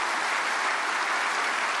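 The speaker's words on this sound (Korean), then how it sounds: "먼 길 오셨는데 우리 박수로 환영해 주시겠습니다." A church congregation at a prayer meeting for peaceful reunification applauding in welcome of a visiting pastor: dense, even clapping from many hands, loud and close, sustained throughout without voices.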